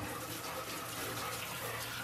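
Hot tap water runs steadily over fruit being washed in a kitchen sink, a close, continuous gushing stream with no pauses throughout.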